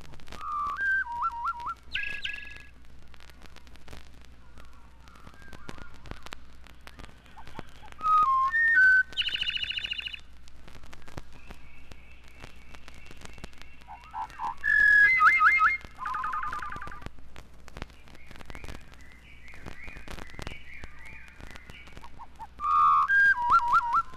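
A thrush's song, slowed to half speed and dropped an octave, comes as clear, whistle-like phrases that rise and fall. The varied bursts are separated by pauses over a faint, steady background hiss.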